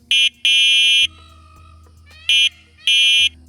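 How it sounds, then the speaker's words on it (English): Horn of a Tifgalop K8 electric scooter, a loud shrill electronic beep sounded four times in uneven bursts, with a low motor hum in the gaps between. "we do have the horn, and let me go ahead and turn that on so you can hear what it sounds like."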